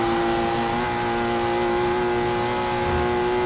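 A BMW M2 in Forza 7 accelerates at full throttle down a straight, its engine holding a steady, strained, buzzing tone that climbs gently under a constant roar.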